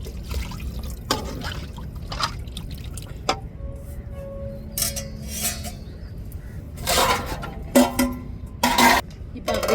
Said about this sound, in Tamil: தேவையான அளவு தண்ணி சேர்த்துக்கிடுவோம்.